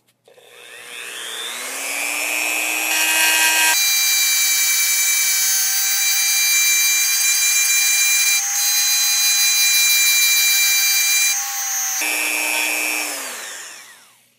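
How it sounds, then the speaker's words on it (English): A polishing drum on a rotary tool works the mag release scallop of a Glock pistol frame, a loud steady high-pitched whine that spins up, holds for about ten seconds with slight changes in pitch as it bears on the polymer, then winds down. "I'm just going to come through with a polishing drum and polish this up"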